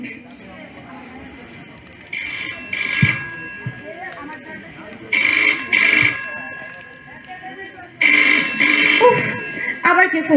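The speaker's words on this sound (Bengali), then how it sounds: "আবার কে ফোন করলো?" A telephone rings indoors in three loud, trilling bursts separated by short pauses, with people talking around and between the rings.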